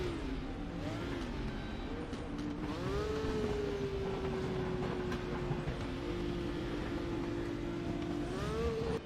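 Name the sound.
Red Bull Corvette Z06 R racing car engine, from a video game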